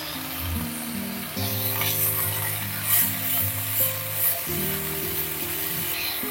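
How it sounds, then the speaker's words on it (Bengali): Chopped polta leaves fry with vegetables in oil for a niramish shukto, a continuous hissing sizzle with stirring swells, sitting over a low steady tonal hum. "এইবার কলতা পাতাগুলো একটু সবজির সঙ্গে কষাবো"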